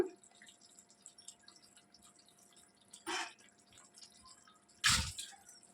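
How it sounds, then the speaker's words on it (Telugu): Water is squeezed out of washed coriander leaves in two short, quiet splattering bursts of dripping, one near the middle and a stronger one toward the end, over a faint, still background. "కొత్తిమీర శుభ్రంగా వాష్ చేసుకొని, సో ఇలా వాటర్ మొత్తం పిండేసి వేసేసుకోవాలి"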